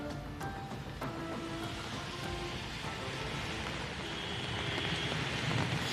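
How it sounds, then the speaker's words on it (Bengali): Heavy rain falling in Kolkata, a dense, steady wash of noise with faint scattered drops, holding at moderate level without pause. "যেভাবে বৃষ্টি হচ্ছে সেভাবে যদি সারাদিন আজ বৃষ্টি চলে তাহলে কলকাতা শহর কিন্তু ভাসবে"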